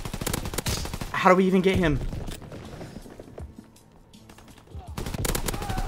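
Rapid bursts from an M3 grease gun submachine gun in a first-person shooter game, a loud rattling volley of a second or so under a player's talk.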